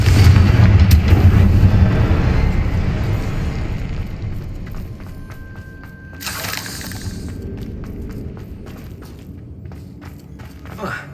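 A Confringo fire-blast spell goes off in the Hogwarts Legacy game with a loud booming explosion that decays into rumbling debris, followed by sharp shattering cracks and a ringing tone.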